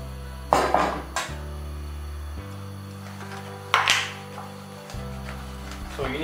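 Onions are pressed for a Roman onion soup, with several sharp clanks and knocks of utensils against a pot or dish. A low steady hum sits between the hits.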